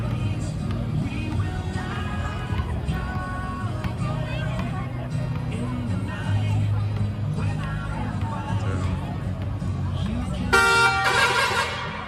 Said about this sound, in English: I've heard it make other weird honking noises, but not that one.